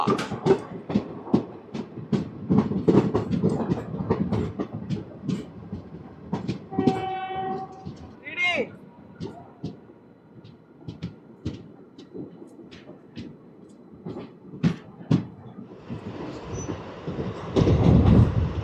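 Narasapur Express (17248) with ICF coaches running slowly out of Dharmavaram Junction near Mudigubba: steady rhythmic wheel clacks over rail joints, with a couple of horn blasts midway and louder rumbling toward the end.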